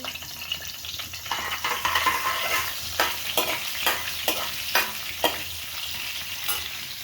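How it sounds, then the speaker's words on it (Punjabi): Cumin seeds roast in desi ghee in a kadai wok, giving a close, steady sizzle with sharp crackles and spoon clicks as they are stirred, with no voices. "ਕੜਾਈ ਦੇ ਵਿੱਚ ਆਪਾਂ ਦੇਸੀ ਘਿਓ ਐਡ ਕਰ ਲਿਆ ਤੇ ਹੁਣ ਇਹਦੇ ਵਿੱਚ ਜੀਰਾ ਪਾਵਾਂਗੇ"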